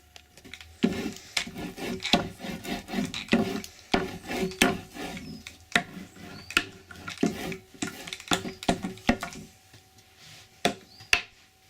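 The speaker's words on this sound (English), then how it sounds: "I'm just going to press that on the top and see if we can get any more paint off it." A paint palette being pressed and rubbed to lift paint, giving soft scraping and rasping rubs in uneven bursts with small taps, fairly close and quiet.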